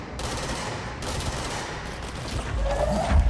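Gunfire from the video game Control, a dense, continuous fusillade of rapid shots and blasts at high level for a few seconds, ending in a heavier low boom.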